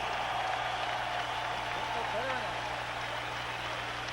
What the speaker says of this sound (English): how about a round of applause for these 2 heavyweights in the ring here tonight